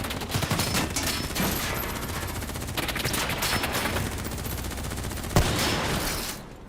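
Sustained gunfire in the Call of Duty: Black Ops 3 game, dense rapid automatic bursts with a sharp louder crack near the end before the shooting cuts off.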